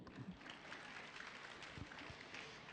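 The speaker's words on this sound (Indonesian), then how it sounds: "tepuk tangan untuk ini" Seminar audience at a cervical cancer health talk applauding, a steady wash of many hands clapping at low, distant level with no voices over it.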